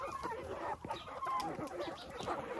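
Chickens cluck softly in a coop as they peck and gobble potatoes, with scattered close clucks and rustling over a steady background hum.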